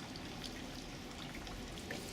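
Water gushes from the eyes of a stone fountain statue at the Bom Jesus de Braga sanctuary in Portugal, giving a faint, continuous trickle and patter of splashing drops.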